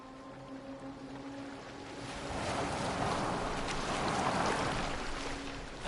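A boat moves across the water in Assassin's Creed Valhalla, with a steady wash of water and wind that swells louder midway, alone and without talk.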